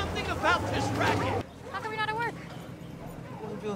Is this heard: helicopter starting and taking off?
no